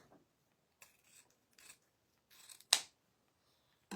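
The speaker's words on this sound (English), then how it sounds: "let's grab some scissors" Several short snips of scissors cutting, spaced irregularly with quiet gaps, ending in one louder, sharper snip close by.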